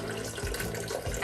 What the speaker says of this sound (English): Just pouring the ice cold water in